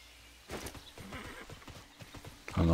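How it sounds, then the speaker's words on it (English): A horse mount in the online game TERA trots with a quick run of clip-clop hoofbeats, then lets out a loud, clear neigh at the end. "It's because I'm on the horse, maybe?"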